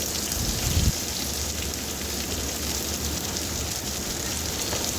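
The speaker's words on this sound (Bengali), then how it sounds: "এবার পেঁয়াজটা দেওয়ার পরও খুব ভালো করে লাল লাল করে ভেজে নেবো" Chopped onions fry in hot oil, giving a steady, even sizzle that carries on without a break, with a brief knock near the start.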